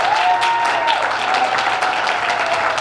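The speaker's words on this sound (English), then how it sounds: "Round of applause for them, ladies and gentlemen." Audience applause fills an improv comedy show, dense and steady for about three seconds, loud and close, with a faint sustained tone running underneath.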